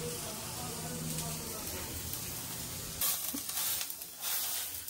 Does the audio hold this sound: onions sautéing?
yes